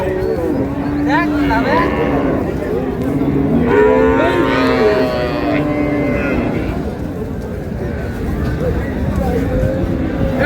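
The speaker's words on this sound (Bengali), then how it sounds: "গাভী বাছুর।" Cows moo repeatedly at a cattle market, several long drawn-out lows close by, with people talking in the background throughout.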